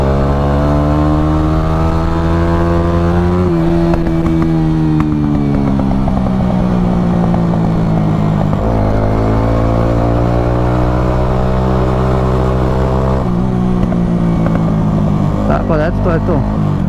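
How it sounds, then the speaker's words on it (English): A Honda motorcycle engine running during a ride, a loud continuous drone that rises and falls as the bike accelerates and shifts through gears, with someone talking over it throughout. "Znači provozali smo se malo, motor da proradi, motor je malo ono proradio."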